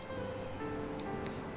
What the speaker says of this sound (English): Is that rain? That is, I love it.